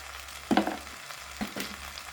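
Spices fry in oil for a jackfruit curry, making a steady close sizzle, with two brief louder bursts of spattering and stirring.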